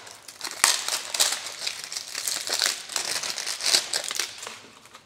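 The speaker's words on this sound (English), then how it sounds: "we're just going to get our pedals out of the packaging" Crinkly plastic packaging is pulled open around a pair of bike pedals, giving close, irregular crackling and rustling bursts with short pauses between handfuls.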